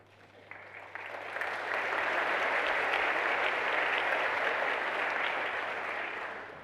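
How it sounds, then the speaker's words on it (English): Sustained applause from a graduation congregation in Exeter greets an honorary graduate, building over the first second into a dense, steady clapping that fills the room before fading slightly at the end. "Thanks for the applause."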